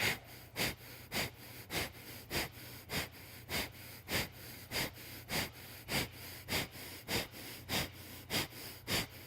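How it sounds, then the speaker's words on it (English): Rapid, forceful rhythmic breath-of-fire yoga breathing, about two sharp nasal exhalations per second, loud and close, held steady for the whole stretch with no talking. "Breath of fire."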